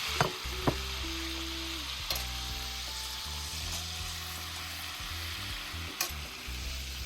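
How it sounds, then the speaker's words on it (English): Strong, steady sizzling of pasta sauce frying in a hot pan with red wine vinegar, with a few sharp clinks of a utensil against the pan. "When it stops frying strong like that"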